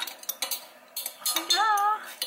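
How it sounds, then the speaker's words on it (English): A utensil stirs and clinks against a bowl in short, close scrapes and taps, with a brief tonal squeak near the end. "So we're gonna stir, stir, stir"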